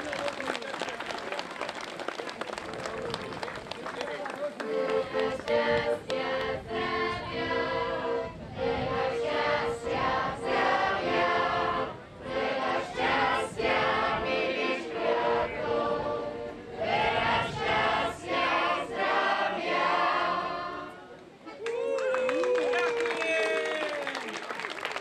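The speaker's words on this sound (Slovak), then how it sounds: "Mohli by sme ho samozrejme, hádam, odmeniť aj nejakým potleskom" Sustained applause from an audience celebrating a 100th birthday, dense clapping that rises and swells in waves, with people talking over it at times and a brief lull near the end.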